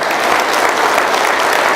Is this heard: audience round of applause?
yes